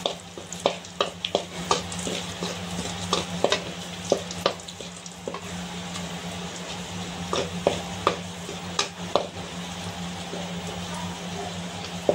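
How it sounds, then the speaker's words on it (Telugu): Ginger fries in hot oil during prawn pickle preparation, a steady sizzle under frequent sharp stirring clicks and scrapes of a spoon against the pan, close and fairly loud. "మనము ఈ అల్లాన్ని మళ్ళీ ఆయిల్లో బాగా వేపుకోవాలి"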